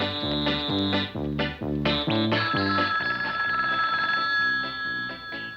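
A telephone rings with a steady electronic warble, repeating in loud rapid bursts over a busy background of music or noise, no voices heard.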